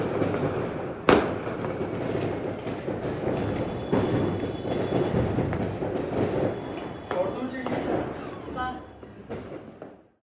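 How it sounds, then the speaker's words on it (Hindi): Diwali firecrackers set off by children during a family festival celebration, a sharp crack near the start followed by a steady crackling, popping din with scattered bursts; people talk underneath throughout. "जो है बच्चे पटाखे चला रहे हैं,"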